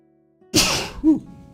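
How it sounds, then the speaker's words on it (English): A single loud sneeze up close, a sharp burst of breath followed by a brief voiced tail. "You gotta sneeze real quick."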